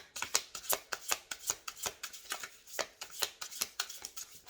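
Playing cards riffle and snap in quick bursts, a brisk rapid rhythm of crisp flicks, close up with no talking.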